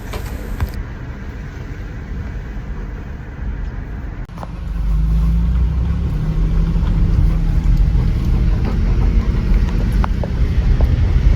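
Road traffic passes along a street, starting as a quieter background hum and then becoming a loud, close rumble of a passing vehicle with wind buffeting the microphone.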